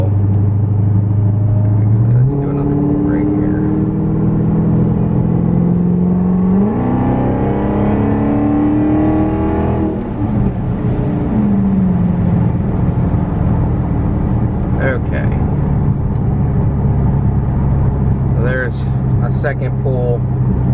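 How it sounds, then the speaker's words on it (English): A Dodge Hellcat V8 is revved at about three-quarter throttle in 40–50 degree weather, with a loud, close exhaust roar whose pitch climbs and falls through repeated rising pulls over a constant deep rumble. "That's a Hellcat at maybe 3/4 throttle in 40 degree weather."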